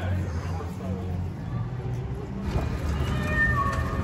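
A cat at a Six Flags St. Louis amusement park meows once near the end, short and fairly clear over a background of crowd babble and low ambient noise.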